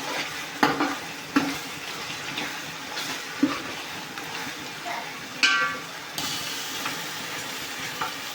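Country chicken pieces for a pulusu curry hiss and sizzle in a pan as they are stirred, with a few sharp clanks of a utensil against the metal at intervals over a soft, continuous frying sound.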